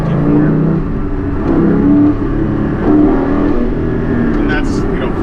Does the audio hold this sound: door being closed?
no